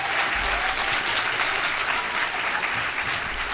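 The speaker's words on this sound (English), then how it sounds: "Clap for all these amazing people" Sustained applause from a luncheon audience, dense steady clapping held at an even level throughout, with no voices breaking through.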